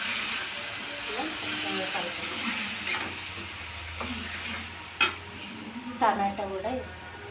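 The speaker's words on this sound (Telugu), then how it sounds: "తర్వాత పెరుగు కూడా వేసుకొని కలిపేస్తాం." Curd being stirred into a meal maker biryani mixture in a hot pan, with steady sizzling and hissing under scraping stirs and a few sharper spoon clinks near the end.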